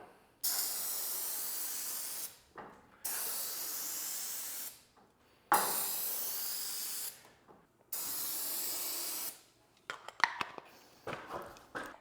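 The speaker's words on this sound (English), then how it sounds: "Just a couple sprays right in there." Several long hissing bursts of an aerosol lubricant sprayed onto garage door springs, each lasting a couple of seconds, followed by a few light mechanical clicks and rattles.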